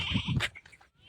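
Goats bleating nearby in a village setting, a short wavering cry followed by a sharper bleat and fainter trailing calls, fairly quiet overall.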